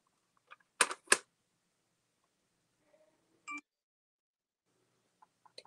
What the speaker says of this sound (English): My notifications are talking to me.